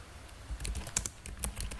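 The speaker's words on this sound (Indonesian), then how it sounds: "Kita ketikkan" Quick, close keystrokes on a computer keyboard while entering Git commands, a short irregular run of sharp taps with a couple of heavier presses.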